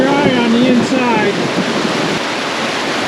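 Heavy rain pours at a campsite in Shenandoah National Park as a broad, steady roar of falling water, loud and constant, with a voice talking faintly under it at the start.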